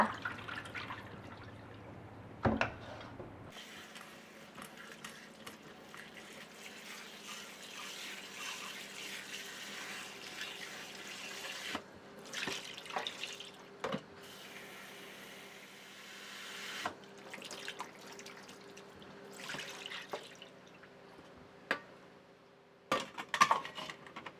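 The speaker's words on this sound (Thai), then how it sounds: "เทน้ำทิ้งแล้วก็ ล้างให้สะอาด" Mango pieces being rinsed in water after soaking in limewater, with steady running and splashing water and small drips and clinks in a sink, fairly close and without talk.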